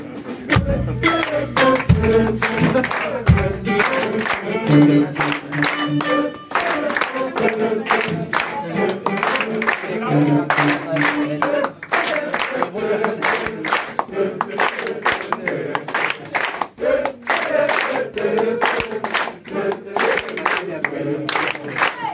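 At a jazz festival concert the audience claps along in a steady, dense beat that runs the whole time, mixed with the band and singing voices from the crowd.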